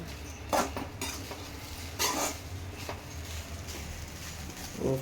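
A metal spoon scrapes and clinks against a pan while egg fried rice with pepper powder is stirred, several sharp irregular knocks over a soft sizzling background, close and fairly quiet, no talking.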